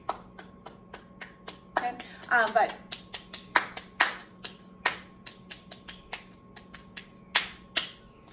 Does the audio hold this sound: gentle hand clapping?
yes